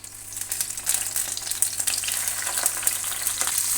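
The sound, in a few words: fish with salt and turmeric frying lightly in oil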